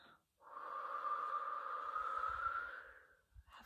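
A person blows out a long, steady breathy rush that mimics the wind. It swells in over about three seconds and fades out, close and moderately loud, with a soft puff at the end.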